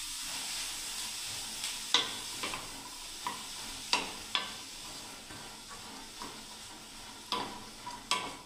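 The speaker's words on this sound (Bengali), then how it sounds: "এবার আমি বন্ধুরা ভালোভাবে এটাকে বন্ধুরা মিশিয়ে নিচ্ছি ভালোভাবে" A spoon mixes a black chana protein salad dressed with lemon juice in a bowl, leaving a soft wet stirring hush broken by about a dozen light clicks and taps at irregular intervals.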